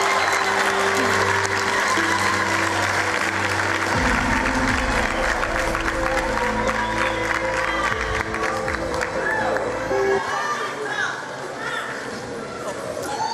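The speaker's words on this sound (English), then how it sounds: "Another round of applause." An audience applauds at a matric results announcement, sustained clapping from a large indoor crowd over music-like tones, with a voice speaking over it.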